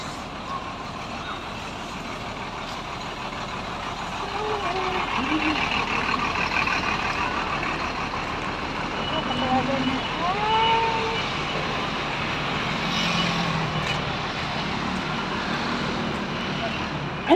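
Traffic around parked school buses: heavy engine rumble and passing vehicles with occasional beeps, continuous and fairly close, with voices talking faintly underneath.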